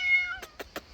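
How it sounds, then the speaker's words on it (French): A cat meows once in a clear drawn-out tone, followed by three short rhythmic rustles or thumps close by. "Oh, tu as ramené le chat?"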